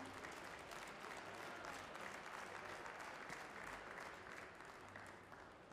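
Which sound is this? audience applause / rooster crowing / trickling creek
audience applause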